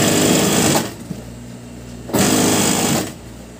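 A sewing machine runs along the edge of a pillowcase in two loud, close bursts of rapid stitching, with a short quiet pause between them.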